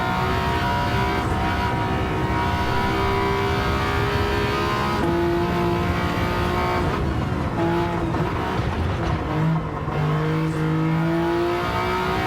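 A small three-cylinder Toyota race car in Gran Turismo 7 revs hard around a track lap, its engine note climbing and dropping steadily through shifts, loud and continuous with no talk.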